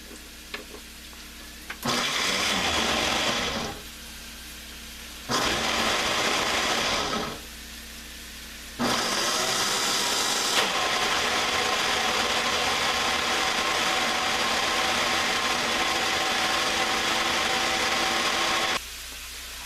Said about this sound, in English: Let's go ahead and blend this up in the blender.